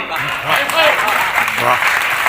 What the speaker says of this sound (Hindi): ताली बजाइए, जोर से बजाइए, दोनों हाथ खड़े करके बजाइए।